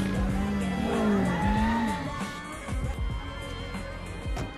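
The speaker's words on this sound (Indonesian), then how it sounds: "Stella pun pergi menggunakan mobil mini berwarna merah menuju kantornya" A small red Mini car pulls away, engine whining up with a brief tire squeal, then fades into scattered thumps and background noise.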